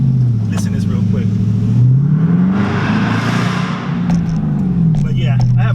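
Car fitted with a Carven exhaust revving, a deep droning engine note that rises and falls through a couple of rev sweeps, loud and close, with someone talking over it.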